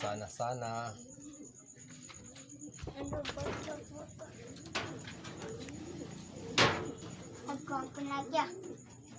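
Racing pigeons cooing inside a loft after a long-distance race, soft repeated throaty coos near and far, with people talking quietly and a voice over them.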